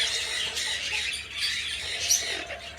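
Several pet birds, including a violet turaco, eclectus and yellow-naped amazon, squawk and screech in overlapping bursts, fairly close and harsh, with no talking.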